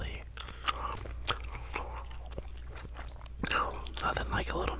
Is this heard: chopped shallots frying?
no